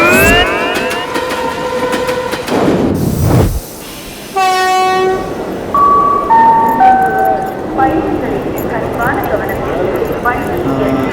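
A train horn blares in long tones over the rumble and clatter of rolling rail cars, with a loud whooshing pass midway and voices faintly in the background.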